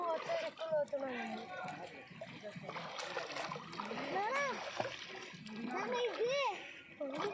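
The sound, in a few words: water splashing while swimming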